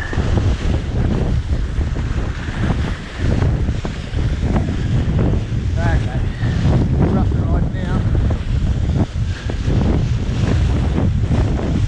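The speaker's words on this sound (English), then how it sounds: "A bit of wind there on the backside." Strong wind buffets the microphone continuously during a kiteboarding session at sea on a 14 m Cabrinha FX kite, a loud, steady roar with water rushing beneath it.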